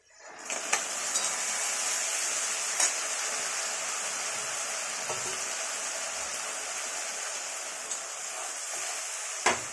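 A paste of poppy seed, chili, ginger and tomato hits a hot pan and sizzles in a steady, even hiss, with faint clinks of stirring here and there.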